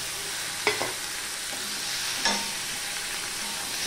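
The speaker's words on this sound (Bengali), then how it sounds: "আদা আর কাঁচা লঙ্কাটাও ভালো করে ফোড়ন দিয়ে নেব" Constant hissing sizzle of ginger and chili frying in oil, broken by two sharp scrapes of a spatula against the pan.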